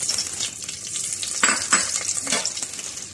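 Butter melting in hot oil in a pot, a steady close sizzle and crackle that runs throughout with a few louder spatters near the middle, no voices.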